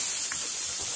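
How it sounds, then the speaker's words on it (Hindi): Crushed garlic fries in hot oil with cumin and mustard seeds over low heat for a sweet raw mango pickle, giving a steady, close sizzling hiss. "लहसुन उसे भी भून लेंगे"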